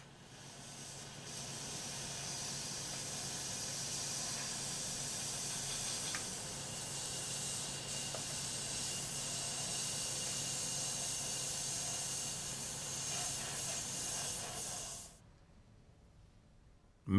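Sandblasting a dental metal framework with 110 micron aluminum oxide grit at 2.5 bar gives a steady, loud hiss of air and abrasive for about fifteen seconds, then cuts off abruptly.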